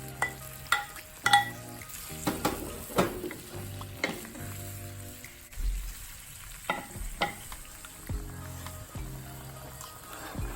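Pork ribs returned to a hot pan for Vietnamese sweet and sour pork, frying with a steady sizzle under repeated stirring scrapes and clatters, close and continuous without voices.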